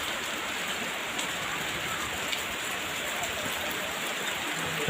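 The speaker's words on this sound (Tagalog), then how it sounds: "Ang ulan talaga siya guys." Heavy rain falling onto surfaces outdoors, a dense, steady hiss of drops that stays loud and even throughout, with faint scattered splashes and no talking.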